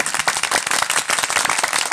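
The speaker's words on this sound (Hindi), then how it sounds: "ताली मारो" Hands clap in a dense, quick burst of many people applauding together, sharp and close, filling the moment with no talk over it.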